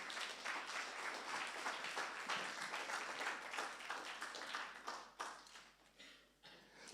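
A church congregation applauding, dense sustained clapping from many hands in a room, moderately loud and steady before thinning out toward the end.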